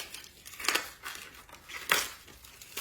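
A knife slices through a red onion on a cutting board, cutting spiral strips, with three or four crisp, crunchy crackling cuts spaced irregularly and heard close up, with no talking.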